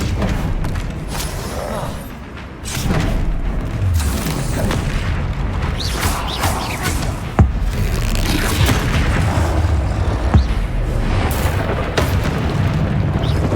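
Spell explosions from Hogwarts Legacy go off in steady succession, with deep booming blasts, bursts and thuds over a dense, loud, continuous roar of combat effects and a few sharp impacts.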